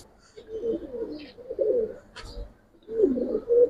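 Pigeons coo in low, throaty bursts at a pigeon market, three close rolling coos separated by short pauses, with a faint chirp in between.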